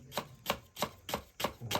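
Onion being finely chopped with a knife on a board, six crisp evenly spaced chops in quick rhythm, close and alone.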